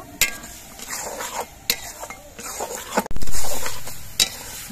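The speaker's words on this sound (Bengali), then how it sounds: "এবার মটরশুঁটি দিয়ে আর মশলা দিয়ে আরো কিছুক্ষণ কষিয়ে নেব" Broccoli stir-fries in a pan with peas and spices while a spoon clatters and scrapes against the metal. Sharp knocks land at intervals over a sizzling background, with one louder burst of hissing partway through.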